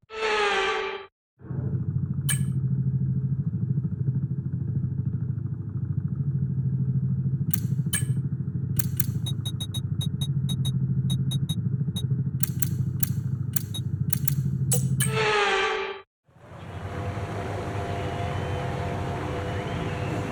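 Formula 1 cars on the formation lap in the F1 24 racing game at Miami, heard as a steady droning engine note that holds for most of the stretch between brief breaks, with scattered clicks and no talking.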